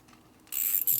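A ratchet wrench fitted with a 12-point socket turns on a Harley-Davidson Shovelhead engine during a top-end rebuild, giving a close, bright burst of rapid clicking that breaks off briefly and resumes after a quiet start.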